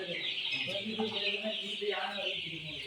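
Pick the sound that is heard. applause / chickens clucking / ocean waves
chickens clucking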